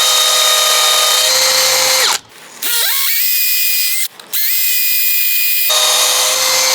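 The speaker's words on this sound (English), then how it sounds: "I'm going to use a 6mm masonry bit, and I'm going to drill on those marks that we made" A power drill fitted with a 6mm masonry bit bores into a wall, a loud high whine that runs in three bursts, separated by two short pauses as the motor spins down and back up, with no talk.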